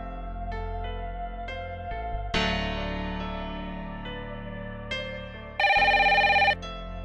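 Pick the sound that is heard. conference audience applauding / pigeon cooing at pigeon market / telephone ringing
telephone ringing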